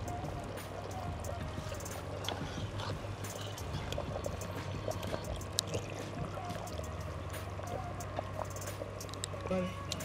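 A ground ragi flour and coconut milk mixture is poured into a quail curry during village-style cooking, making a soft continuous liquid trickle and bubbling under a low hum, close by.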